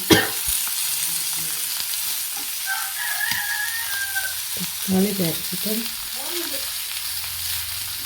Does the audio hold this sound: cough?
no